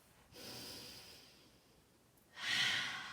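Two slow, audible breaths during a core yoga flow, a soft airy inhale followed after a pause by a stronger nasal exhale, close and quiet with no talking.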